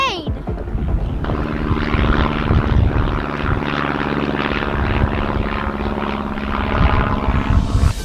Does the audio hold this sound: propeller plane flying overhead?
yes